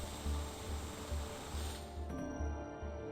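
Mechanical drilling sound effect while drilling for fuel in the space game Out There: Ω The Alliance, a pulsing grinding rumble in repeated bursts that cuts off abruptly near the end.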